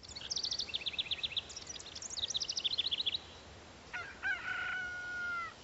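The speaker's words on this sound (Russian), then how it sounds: "Давайте, цыпки, покушайте." Chickens cluck in quick, bright bursts in a farmyard scene from the video game Morozko, followed by a single rooster crow near the end; the sounds are fairly faint and clear, with no talking.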